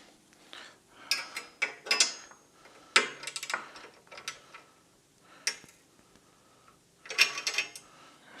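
Fasteners are tightened down on mild steel parts, making separate bursts of ratcheting and metallic clicking. The bursts are close and moderately loud, with short quiet gaps between them.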